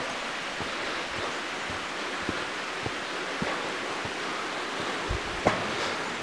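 Salisbury Falls, a waterfall at the top of a creek in the bush, produces a steady broadband rush of falling water with occasional faint knocks and clicks, continuous and fairly close with no talking.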